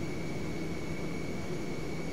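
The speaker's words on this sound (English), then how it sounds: "Engine sounds is pretty good." Boeing 727-100 jet engines in the FsPassengers flight simulator game produce a steady, dense whooshing roar with a constant high whine running through it, unbroken and even in level.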